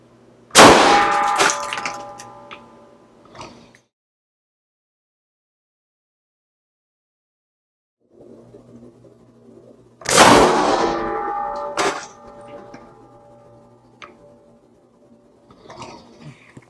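A Crosman multi-pump .177 airgun fires pellets into a Megaboom supersonic target system, producing two loud metallic clangs with ringing decay about ten seconds apart, then a faint third strike at the very end. No voices are heard.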